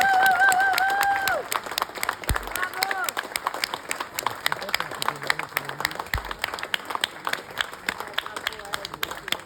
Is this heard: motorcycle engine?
no